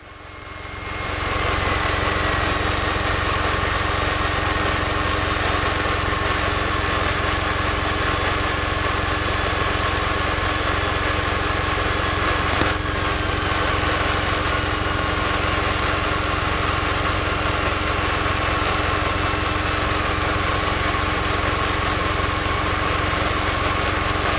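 A Piper Cherokee 180 on landing approach with 20 degrees of flap gives a loud, steady engine drone that holds an even level throughout, with no voices over it.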